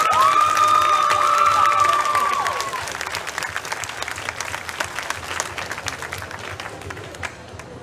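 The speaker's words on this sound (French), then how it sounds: "je pense qu'on peut les applaudir très très fort" An audience at a cosplay contest at a Japan-themed festival bursts into loud applause and cheering. A whistle rings out at the start, and the clapping slowly fades over several seconds.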